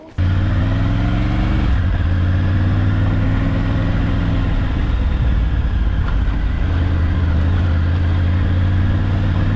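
A Triumph Tiger 900 Rally Pro climbs Bullio Pass road near Sydney, NSW, Australia, its engine a loud, steady, close drone that shifts pitch briefly early on, then holds a continuous throaty run with no voices.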